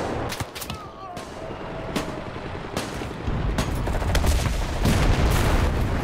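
Gunfire and artillery in the WW2 video game Enlisted: sharp shots and booms crack out irregularly over a constant battlefield rumble that grows louder toward the end.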